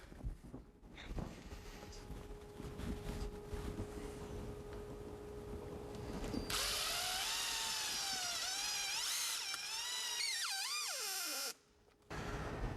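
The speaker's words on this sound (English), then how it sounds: "we got our woofers all screwed in" A power tool drives hex head screws to mount Polk Audio woofers in a fiberglass car audio enclosure, a steady close whir that rises into a loud, pitch-bending whine before stopping abruptly near the end.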